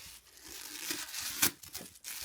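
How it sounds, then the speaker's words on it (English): Wrapping paper being torn and crinkled off the top handle of a Fairfax & Favour handbag, close up in short rips and rustles, with one sharp louder tear midway. "I managed to get the paper off the top handle"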